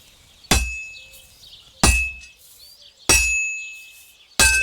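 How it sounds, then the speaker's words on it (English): Hammer strikes on an anvil while forging in the blacksmith's shop of Kingdom Come: Deliverance 2, four evenly spaced ringing metallic clangs, each leaving a bright sustained ring that fades before the next blow. "Besides the sparks, you can tell a good strike by the sound it makes."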